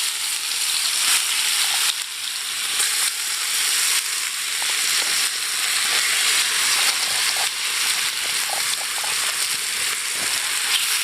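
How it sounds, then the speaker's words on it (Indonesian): Ground spice paste fries in hot oil in a wok with a loud, continuous sizzle and crackle, and occasional scrapes and stirring bursts over it, close up and without talk. "bumbu yang tadi udah ulek kita goreng dulu"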